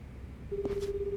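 A single dial tone sounds in Like a Dragon Gaiden: The Man Who Erased His Name, a steady electronic tone starting halfway through with a brief keypress blip, quiet and unaccompanied by voices.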